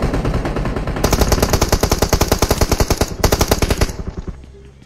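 Gunfire from a firefight in PUBG Mobile: loud, rapid automatic bursts rattle in an even, fast rhythm for about three seconds, then stop abruptly with a short lingering echo.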